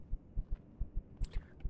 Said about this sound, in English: With the heartbeat.